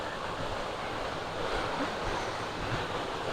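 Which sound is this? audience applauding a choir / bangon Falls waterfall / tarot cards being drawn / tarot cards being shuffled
bangon Falls waterfall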